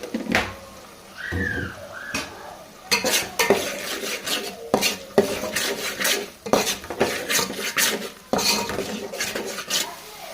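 Chicken mixed with turmeric and rock salt in a metal pot, a spoon scraping and knocking against the sides in a busy, irregular run of clatters and rubbing strokes, close up and fairly loud, with no voices.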